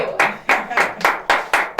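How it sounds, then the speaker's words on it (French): Roughly seven sharp, evenly spaced hand claps ring out at close range in a quick rhythmic beat, a brief burst of applause with no talking. "ça mérite des applaudissements"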